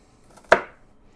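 A single sharp knife chop through an onion cut crosswise on a cutting board, a crisp close thunk that fades quickly in an otherwise quiet kitchen.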